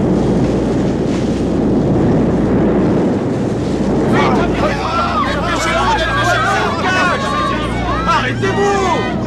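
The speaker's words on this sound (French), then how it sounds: "C'est le vent! Oui, c'est le vent!" Strong wind blowing steadily throughout, a loud rushing roar with excited voices shouting and calling over it, as a storm approaches.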